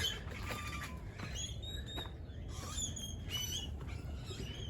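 Blackbirds calling at an Arizona worm farm garden, a scatter of short whistled and squawky chirps from several birds at moderate distance over a low outdoor rumble, with no talking.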